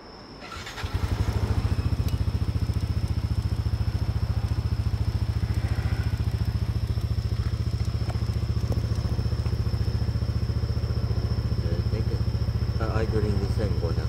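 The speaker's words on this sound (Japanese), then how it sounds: "エンジンをかけます。" A customized Yamaha NMAX125 scooter engine cranks and catches after a short pause, then settles into a steady, close, loud rumbling idle with a thin constant whine above it.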